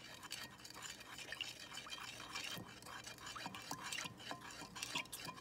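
A vegan non-dairy golden milk with turmeric and ginger is stirred, giving a faint, continuous swishing and soft clinking of a spoon in liquid, busy and irregular throughout.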